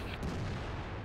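Artillery fire during a Lakeville landing-zone defense battle, heard as a faint, continuous rumbling barrage of distant booms with no clear individual shots.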